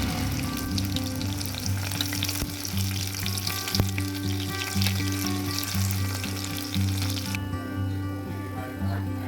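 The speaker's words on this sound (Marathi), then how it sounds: "आतां गोल्डन ब्रावन कलर येवताय भाजून घेवचें लसूण" Garlic frying in coconut oil until golden brown, a steady close sizzle that runs the whole way with a low continuous hum beneath it. The sizzle drops abruptly near the end, and no one speaks.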